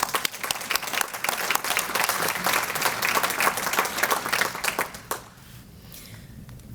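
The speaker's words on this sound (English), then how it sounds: "Let's give another round of applause for all of this investment." An audience at an economic development annual meeting and luncheon claps in a dense burst for about five seconds, then the applause falls away to scattered claps and a quieter room.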